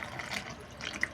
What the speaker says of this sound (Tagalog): Lagyan natin ng tubig masyadong mainit.